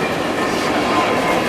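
A freight train with well cars passes close by in the Seattle area, a loud, continuous rolling rumble and metallic clatter filling the whole moment without a break.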